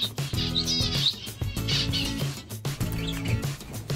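Finches chirp and twitter continuously in an aviary, a busy close chorus of bright high calls with short trilling phrases overlapping throughout.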